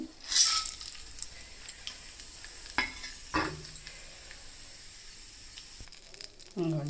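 Dried red chillies, turmeric and tempering spices sizzle faintly in hot oil for a banana pickle, with a brief hiss and a few light clinks of a spoon under quiet talk.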